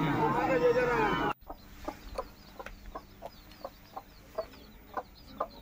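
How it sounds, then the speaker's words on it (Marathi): A loud voice briefly at the start, then soft, repeated clucks and peeps from hens and chicks at a steady, uneven pace nearby. "इथे छोटे छोटे पिल्लं होते कोंबडीचे."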